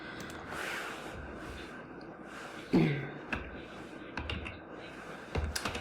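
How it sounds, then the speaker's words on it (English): Scattered keyboard key presses and clicks, close up and irregular, with brief breathy noises between them. "my typing is just really bad right now"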